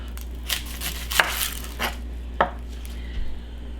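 A knife cuts through an onion on a board, a few sharp separate chops spaced irregularly over a few seconds, close and clear against a low steady hum, with no talking.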